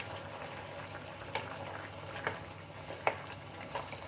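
Chicken frying in its own released water in a pan for mint chicken gravy, a low bubbling simmer with a few sharp clicks of stirring, faint and close, with no speech.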